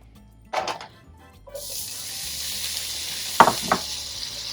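Cooked potatoes go into oil in a pan over medium-low heat: a quiet start and a couple of utensil clatters, then a steady hissing sizzle rises and holds, with two more sharp clinks of cookware over it.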